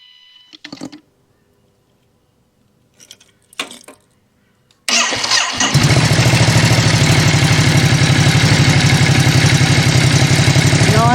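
Ducati SuperSport 939 motorcycle cranking briefly in a few short bursts, then firing up into a loud, steady idle with a continuous throbbing rumble that runs to the end.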